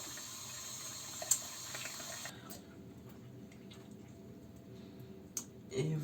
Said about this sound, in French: On se rince.